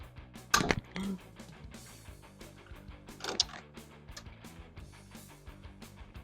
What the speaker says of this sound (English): I'm just going to loosen them up and then try to get them off with the little ratchet thing